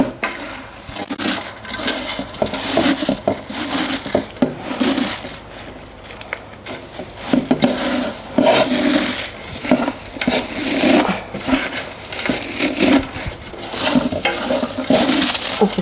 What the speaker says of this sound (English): The red was in here, now the white cabbage. And just massaging it.